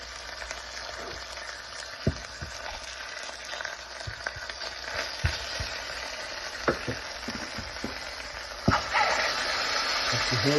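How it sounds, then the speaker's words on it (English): Potato quarters deep frying in hot oil for a rabbit and rice gravy meal, a steady dense sizzle running throughout with scattered pops and crackles, one sharper burst near the end. "I'm just going to quarter those up and deep fry them"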